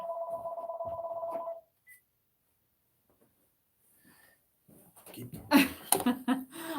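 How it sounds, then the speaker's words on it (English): A telephone rings with a steady electronic trill inside an Airstream trailer, then stops; after a quiet pause, people begin talking nearby. "Sorry, our phone is ringing."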